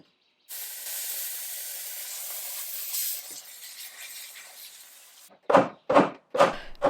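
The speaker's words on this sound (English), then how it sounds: "I used my steamer trying to soften the glue" A handheld steamer softens glue on an old wooden bookcase, letting out a steady close hiss of spraying steam that fades gradually, followed by three short, loud bursts near the end.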